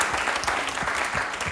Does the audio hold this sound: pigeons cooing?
no